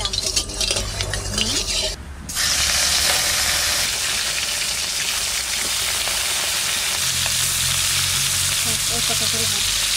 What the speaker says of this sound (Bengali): মাছ ভাজার জন্য কড়াইতে তেল দেব,